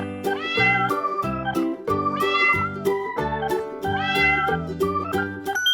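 A cat meowing several times in drawn-out, rising cries, heard over steady backing music in a children's animal-names lesson.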